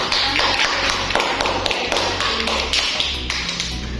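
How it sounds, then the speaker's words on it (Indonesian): A classroom of students applauding, steady dense clapping that goes on throughout at a fairly loud level and keeps an even, unbroken texture. "Beri aplaus untuk Ani."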